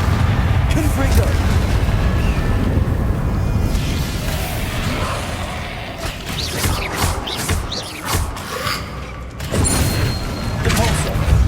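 Confringo spell blasts in Hogwarts Legacy, several sharp booming impacts scattered through a busy combat scene, loud and close, with mechanical clatter between them and a voice calling out spell names.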